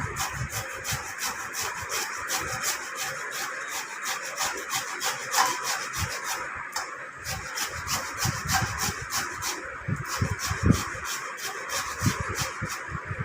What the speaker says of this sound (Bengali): দেখো ঘষে নিলে এরকম ঘষনিতে এরকম মিহি হয়ে যাবে।